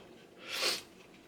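A single sneeze from a person with a cold, a short sharp burst rising and fading within about a second, close and fairly quiet against a still room.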